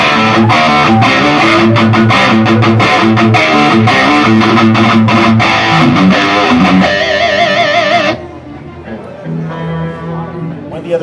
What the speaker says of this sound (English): This is the high gain side of the amplifier.